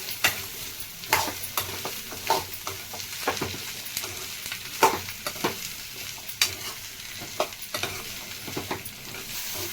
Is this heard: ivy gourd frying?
yes